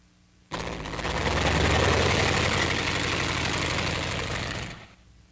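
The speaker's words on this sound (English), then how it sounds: "Then the LVT can be driven out from beneath the skid." Engine of an LVT amphibious tractor as it drives out from beneath a repair skid, a loud, steady, rough mechanical roar that starts abruptly, holds for about four seconds, then cuts off.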